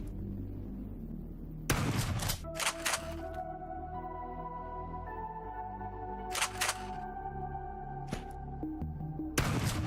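A shoddy pistol firing single shots in the turn-based game Quasimorph, two crisp cracks with short chirpy tails over a steady low synth drone, with no voices.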